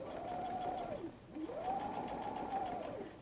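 A sewing machine backstitches the seam of a messenger bag, a close whirring buzz that slows to a brief stop and then runs again in reverse.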